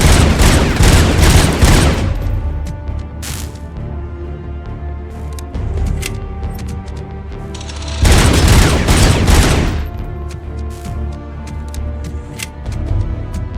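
Heavy machine gun fire in the video game Robocop Unfinished: loud, dense bursts of rapid shots with booming impacts, a long volley at the start and another around the middle, separated by quieter stretches of scattered shots.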